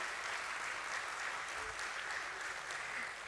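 Steady, dense round of applause from an audience at a stock exchange listing ceremony for Borosil Scientific, welcoming Mr. Pradeep Kheruka to the stage; even and sustained throughout with no talking over it.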